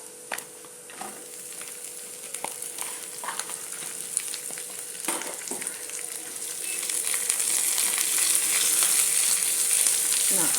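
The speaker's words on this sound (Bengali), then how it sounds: "এবার দিয়ে দেব পেঁয়াজ" Onions hit hot oil in a pan and sizzle steadily, with scattered spoon taps and scrapes early on, then a louder, denser hiss of frying building toward the end.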